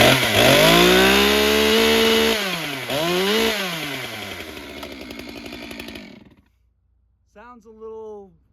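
An M-Tronic chainsaw, out of tune and cold-started, cutting into wood. Loud, close engine whine that rises and dips unevenly, then cuts out into silence before a short revving burst at the end.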